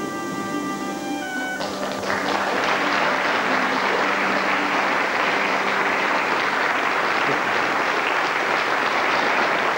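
A studio audience at a televised gospel entertainment show breaks into loud, sustained applause, building after a faint musical tail fades and continuing densely to the end.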